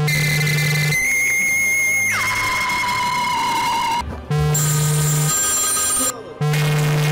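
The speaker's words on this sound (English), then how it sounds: "If you do another ringtone, I'm leaving." Loud electronic phone ringtones play from a device in a game session, a chain of shrill sustained tones and melodic bursts that switch abruptly, broken by two brief silences.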